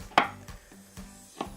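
Ginger snap cookies are cut with a knife on a board, four sharp separate chops with short pauses between them, close and fairly loud, with no voices.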